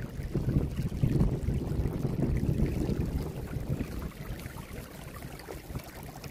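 Storm water gushes from yard drain pipes during a flash flood, feeding a 250-foot yard drain that empties into a detention pond; a steady, churning rush of flowing water holds close and loud, easing slightly toward the end.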